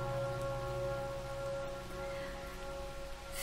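Steady rain falls as a soft, continuous hiss under a calm droning ambient tone, even and unbroken throughout with no voices.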